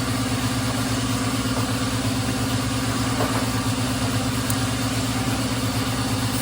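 A 2019 Toyota HiAce engine runs at a steady idle during a coolant flush, with water circulating after oil got into the coolant, giving a constant, close, even rumble with no talk over it.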